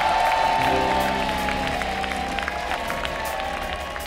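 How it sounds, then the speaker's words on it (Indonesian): Steady applause from a TV talent-show studio audience with scattered cheering, continuous and fairly loud throughout, over a faint hum of a studio room. "Tepuk tangan dulu buat tebakan para panelis kita."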